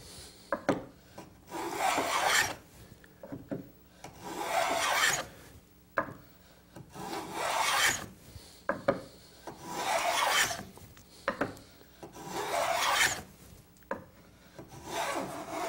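Repeated rasping strokes of a No. 48 tongue-and-groove hand plane cutting a groove in wood, each pass a few seconds long with brief pauses between, close and steady.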